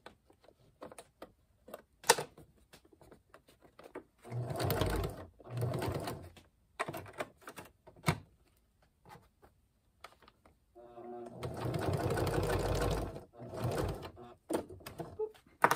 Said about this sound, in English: And I'm gonna keep pulling this tight while I sew.